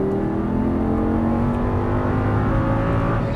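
An Audi R8 V10 with 525 hp accelerates hard on a racetrack at full throttle, its engine note climbing steadily in pitch, loud and close throughout.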